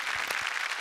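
Theatre audience applauding the writer of a popular Marathi TV serial at a comedy show taping, a short burst of steady clapping at moderate level, fairly distant and with no talk over it.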